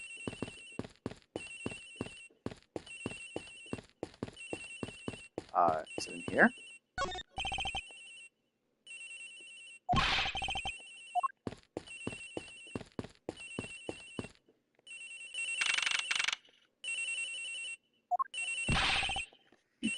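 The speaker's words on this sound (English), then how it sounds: "Agent Hicks' phone, it's ringing from somewhere, sir." A phone rings repeatedly in the Ace Attorney Investigations: Miles Edgeworth video game, with regular repeating electronic ring bursts. The rings alternate with spoken voices.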